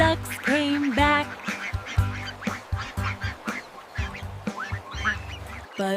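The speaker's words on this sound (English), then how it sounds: "Mother Duck said, "Quack, quack, quack, quack, quack."" Repeated duck quacks sound within the Five Little Ducks children's sing-along nursery rhyme, short bright calls set against cheerful backing music, with no spoken words.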